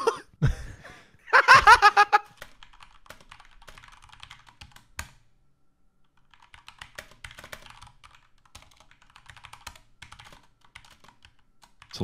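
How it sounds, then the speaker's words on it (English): A burst of loud, rapid keyboard clacking near the start, then quieter scattered key taps and soft clicks continuing for several seconds. "It's a loud keyboard."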